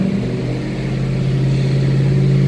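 A car engine runs steadily in fourth gear on a 3500 Series hub dyno with eddy brakes during a ramp test, a loud, even drone with a slight rise in revs toward the end, no talking.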